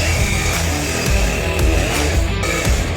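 Geo Ripper trenching machine chewing through tough sandy South Florida ground, a loud, close, steady engine drone with grinding chain cutting noise and small surges in load.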